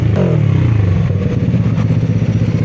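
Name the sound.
Kawasaki Ninja 400cc motorcycle engine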